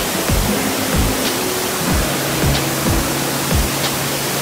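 A steady roar of rushing water from a waterfall in Naeyeonsan's Twelve Falls pours on without a break, loud and close, with a few dull low thumps underneath.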